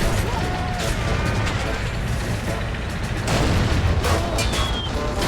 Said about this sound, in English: What is that explosion right over here?